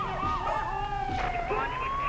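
A police car siren wails and yelps with sweeping, rising and falling tones during a chase in Grand Theft Auto III, fairly loud against a busy game background.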